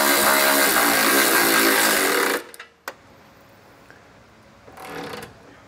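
A power tool drives trailer hitch bolts on a 2022 Audi Q5, a loud, dense buzzing whir for about two seconds that cuts off abruptly, followed by a sharp click and a faint, quiet hum.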